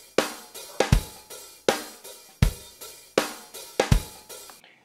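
A simple one-bar percussion loop from Recycle plays back cleanly, with sharp regular kick and snare hits in a steady repeating rhythm, close and dry with no talking.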